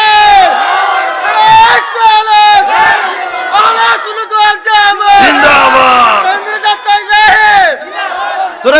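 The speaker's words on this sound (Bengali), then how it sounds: "জোরে তাকবীর দিন" A large religious gathering answers a preacher with loud takbir shouts, many voices roaring together in repeated surging waves of close, full-throated chanting.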